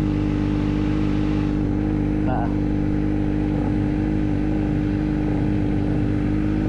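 A Raider motorcycle engine runs with a constant loud, close drone and a layered low hum, holding a steady pitch with little change in revs throughout.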